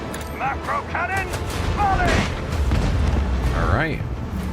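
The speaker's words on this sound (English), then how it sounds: "Macro cannon," A macro cannon volley fires from a starship in the Rogue Trader video game: a dense, sustained roar of booming blasts and rumbling explosions, with tonal sweeps and voices mixed through the barrage.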